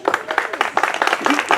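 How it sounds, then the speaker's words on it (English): Brisk, close applause from an audience at an outdoor garden party fundraiser in Carmel Valley, a dense burst of many hands clapping at once that runs throughout. "Thank you for clapping every time I pause to look at my"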